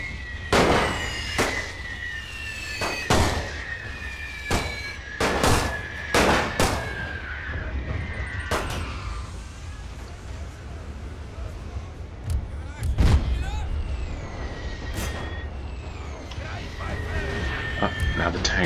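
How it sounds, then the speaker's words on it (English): WW1 tanks fire in a Napoleon Total War mod battle: sharp, loud gun cracks come in quick irregular bursts, then sparser shots, over a constant rumbling battle din with whistling tones. "Now the tanks are opening up."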